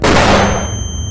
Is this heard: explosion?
yes